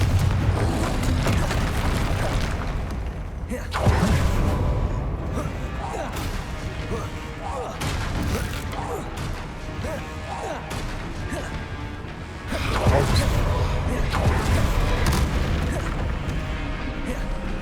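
Spell combat in Hogwarts Legacy, with repeated booming blasts, crashes and magical impacts in dense bursts, a heavy barrage near the start and another near the end, while a player calls out spell names.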